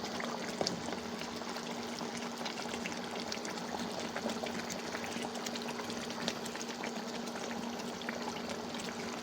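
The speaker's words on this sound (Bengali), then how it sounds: "এই যে আমি পানিটা দিয়ে নিচ্ছি" Water poured steadily into a cooking pot of meat, a soft continuous trickling and bubbling at close range with a faint low hum underneath, no speech.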